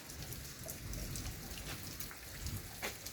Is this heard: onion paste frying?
no